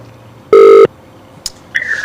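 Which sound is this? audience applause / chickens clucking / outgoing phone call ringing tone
outgoing phone call ringing tone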